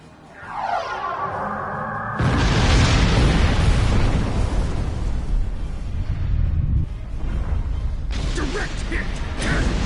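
Starship weapons slam into a target in the space game Star Trek Online, with a loud, roaring explosion that swells suddenly and rumbles on under a dense layer of battle noise.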